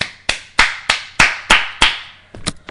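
A single person claps about eight times at a moderate, slightly uneven pace, the claps sharp and close with a short ring after each.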